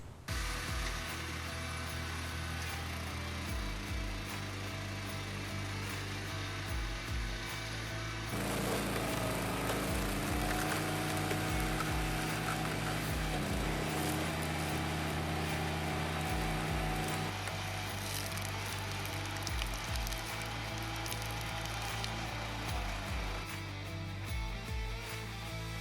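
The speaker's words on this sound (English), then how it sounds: "This hydraulic log lift is really one of the defining features of the RuggedMade log splitters" A RuggedMade hydraulic log lift on a log splitter strains to raise a 288 pound log, with a steady engine drone and pump whine that shifts pitch and load midway through, no talking.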